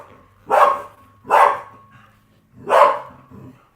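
A small beagle barks three times close by, loud broadband bursts spaced about a second apart with a softer fourth yelp at the end, over a faint steady hum.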